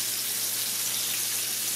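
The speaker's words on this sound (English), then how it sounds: "while the fish is frying" A steady, even hiss of frying, like fish cooking in hot oil, with a low hum underneath and no talking.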